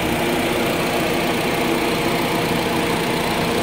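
A 2009 Honda Jazz S with a manual gearbox idles smoothly, giving a steady, close engine hum and hiss at an even level throughout, with no talking.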